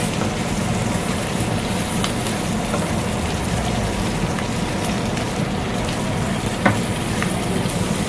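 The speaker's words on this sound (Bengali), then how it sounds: "একটু উল্টিয়ে পাল্টিয়ে ভালোভাবে একটু ভেজে নিব" Dried loitta fish sizzles and fries steadily in a pan, a constant hissing crackle with occasional faint pops, close and alone without any talking.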